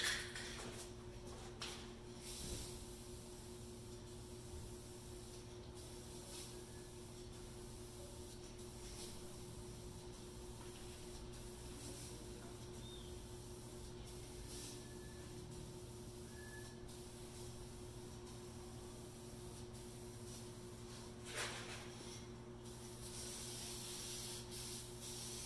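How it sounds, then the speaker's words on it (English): Finish sprays from an aerosol can onto a walnut fireplace mantel in a workshop, a soft steady hiss with brief bursts and faint rubbing sounds over a constant low electrical hum. "So I'm going to go ahead and spray now."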